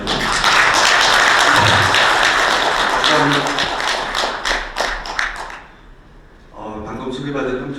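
Applause welcoming a director at the Duksu Forum, a dense, loud round of clapping that thins out partway through before speech begins under scattered claps.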